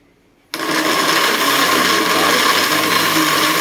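Kitchen blender running on fruit with a cup of mineral water, starting abruptly after a short quiet moment and then holding a loud, steady, dense whir close by until the end.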